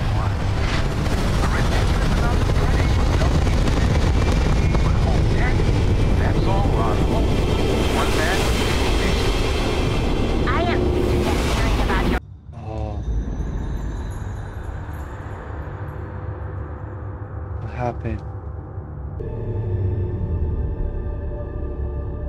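Spaceship engines ignite and roar for takeoff in the video game Starfield, a dense, loud rumble for about twelve seconds that cuts abruptly into quieter ambient game sound with scattered tones.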